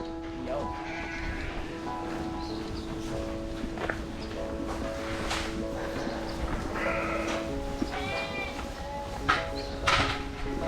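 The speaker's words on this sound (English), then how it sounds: "Here's all our lambs." A flock of sheep and lambs on pasture bleat repeatedly, overlapping calls near and far, over a steady mechanical hum and some shuffling steps.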